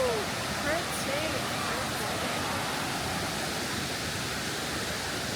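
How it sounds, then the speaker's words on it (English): Kuang Si waterfall roars as a steady, dense broadband rush that fills the whole stretch, close and loud, with a brief excited voice near the start. "We are finally here at the Kuang Si Waterfall."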